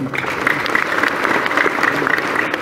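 Scattered applause from an audience at a talk, a steady wash of clapping that runs evenly through the whole stretch at moderate loudness.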